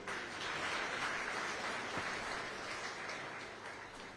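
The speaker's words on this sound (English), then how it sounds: "I request all of you to clap for these children." Mourners at a funeral applaud children, a soft, diffuse wash of many hands heard from a distance that stays steady throughout.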